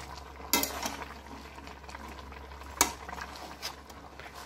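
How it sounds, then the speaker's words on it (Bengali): Fish curry with Malabar spinach simmers softly in a pan while a spoon stirs it, giving a faint low bubbling broken by a few sharp knocks of the utensil against the pan. "এখন মা নেড়ে নেবে।"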